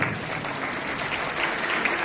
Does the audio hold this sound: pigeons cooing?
no